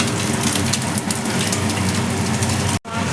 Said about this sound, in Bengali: এদিকে মাছ ভাজ দিয়েছি